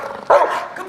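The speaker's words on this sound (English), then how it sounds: "how to get a protection dog to bark at a random person out in public" A single short, loud bark from a protection dog being trained to bark at strangers in public, close by and alone.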